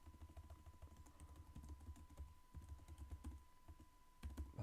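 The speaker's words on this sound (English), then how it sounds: "Oh, typing in the wrong section." Computer keyboard typing in a steady run of light, close clicks and taps, continuing throughout with a faint electrical hum beneath and no talk.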